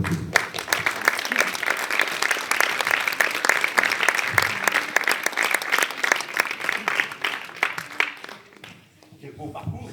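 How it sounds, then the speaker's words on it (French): Sustained applause from an audience at a French village music band's event in Savoie, greeting a silver medal presentation; steady dense clapping for most of ten seconds, fading out near the end. "On peut l'applaudir."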